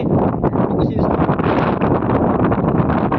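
Strong wind blowing across open farm fields buffets the microphone in a loud, steady roar for a few seconds, with no clear speech.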